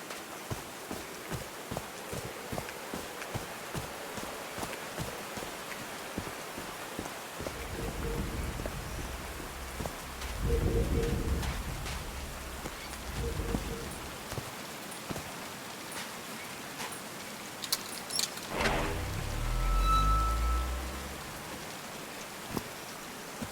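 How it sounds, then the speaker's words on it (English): Rain falls steadily throughout a scene in the video game Call of the Sea, a soft continuous patter with several louder surges of rumbling weather in the middle and near the end. "But these drops of rain are so refreshing."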